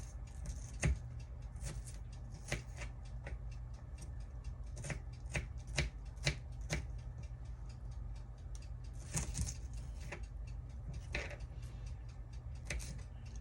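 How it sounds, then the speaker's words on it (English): A knife chops red onions into small chunks on a board, with sharp, close taps landing in uneven bursts over a steady low background hum. "These are red onions. I'm going to cut them up in little small chunks."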